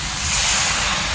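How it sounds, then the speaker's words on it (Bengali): A splash of water hits a pan of frying mixed vegetables and sets off a loud, rushing hiss of steam and sizzle that fills the whole second. "সামান্য জল দেবো।"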